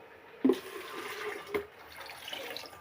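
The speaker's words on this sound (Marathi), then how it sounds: "तीन लिटर पाणी टाकून घेते" Three litres of water pour steadily into a pot, a continuous splashing rush broken by a couple of sharp clunks near the start.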